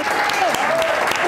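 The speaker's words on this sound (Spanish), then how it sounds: "Un fuerte aplauso para Alejandra Azcárate." A studio audience at a television talk show breaks into strong applause as a guest is welcomed, dense and sustained clapping with voices and a few whoops riding over it.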